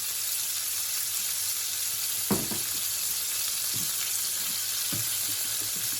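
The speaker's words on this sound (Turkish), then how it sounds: "Bu şekilde biraz pişireceğiz altını." Salmon frying in a pan over the lowest heat, a steady close sizzle with a few brief clinks and scrapes of a utensil.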